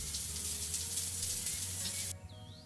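Shower spray hisses steadily in a video game bathroom in Trader Life Simulator 2, a dense even rush of water that cuts off abruptly near the end, leaving a faint tail.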